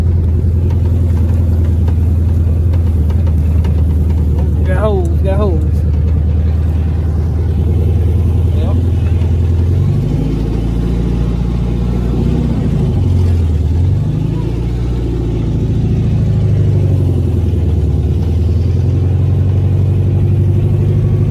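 A Volkswagen Beetle engine rumbles steadily at close range, settling into a low idle and then rising and falling through several revs, with a brief voice over the engine early on.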